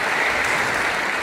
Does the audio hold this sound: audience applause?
yes